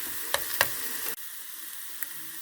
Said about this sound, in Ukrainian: Треба обжарити цибулю на олії до золотистого кольору